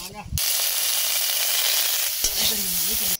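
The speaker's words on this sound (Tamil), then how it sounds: "இறாலை போட்டு சட்டியில் கூட வறுக்கும்போது கம்மன்னு இருக்குங்க." Prawn masala fries in a pan with a loud, steady sizzle and stirring scrapes running nearly the whole time, with a voice briefly audible at the start and again near the end.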